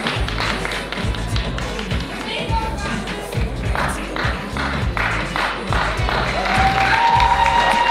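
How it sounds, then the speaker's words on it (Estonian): An audience applauds at a women's sports competition award ceremony, steady crowd clapping with some cheering and scattered voices, over a thumping rhythmic low beat of background music. "Ja aplaus, aitäh!"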